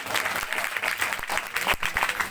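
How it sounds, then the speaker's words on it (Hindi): A crowd at a village Bhagavat katha gathering claps warmly for a local MLA in a full, continuous burst of applause, with faint voices underneath. "सभी लोग हमारे चाचा के लिए ताली बजाएंगे"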